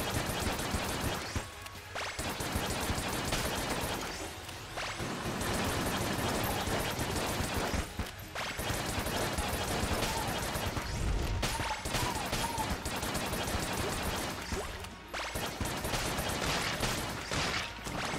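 Rapid gunfire from the Gunther gun in the game Enter the Gungeon, dense bursts of shots crackling almost continuously, broken by a few brief pauses, with no talking.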